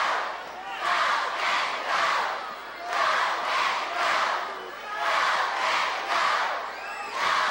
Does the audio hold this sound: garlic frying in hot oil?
no